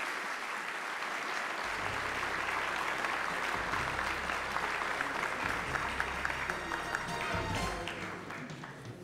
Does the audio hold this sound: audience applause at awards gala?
yes